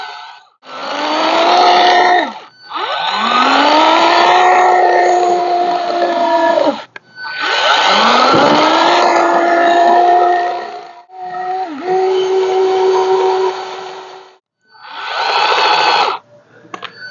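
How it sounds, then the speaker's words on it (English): A battery-operated handheld mixing tool with back-and-forth tines runs in several loud bursts of whirring motor noise. Each burst lasts a few seconds, with pitch sweeps as it speeds up and works through potting mix, and short silences separate the bursts. "But this one's battery operated and it's handheld. And the tines work back and forth."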